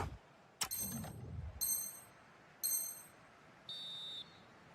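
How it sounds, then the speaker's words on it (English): Referee's whistle in an eFootball match, a few short shrill blasts separated by pauses, with a brief thump near the start and a steady background hum. "And the referee's whistle."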